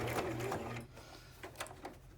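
A sewing machine stitches through the cardboard cover and pages of a Little Golden Book, a soft, quiet mechanical whirr with rapid needle ticking at close range and no talking.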